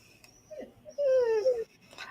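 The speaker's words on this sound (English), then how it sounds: "Do you hear the dog whining at me?" Dog whining indoors, a brief faint whimper followed by a louder, sustained high-pitched whine lasting under a second, then quiet breathing and a faint voice at the end.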